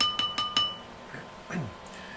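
Three bright clinking strikes ring in quick succession, followed by softer, lower knocks, like small bowls tapped in rhythm.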